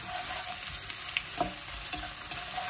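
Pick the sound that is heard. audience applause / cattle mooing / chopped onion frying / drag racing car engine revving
chopped onion frying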